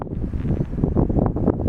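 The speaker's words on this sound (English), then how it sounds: "really windy, but you can kind of see where it meets with the rest of the lake" Strong wind buffeting the microphone beside a lake, a loud continuous rushing roar with gusty surges and no talking.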